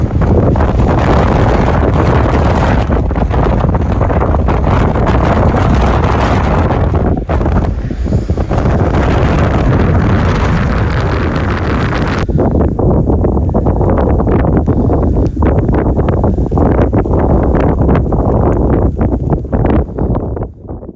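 A strong, freezing gale blows on an isolated road in Lofoten, Norway, with continuous heavy roaring gusts buffeting the microphone and surging loudly throughout, with no voices.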